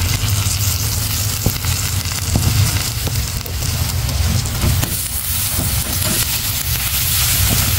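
Curry leaves crackle and sizzle steadily in a hot oiled pan while tomato rice is being made, a dense, continuous frying hiss with small pops, close and loud.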